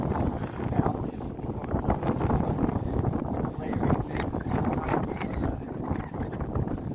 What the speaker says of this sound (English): it's still a bit blowy now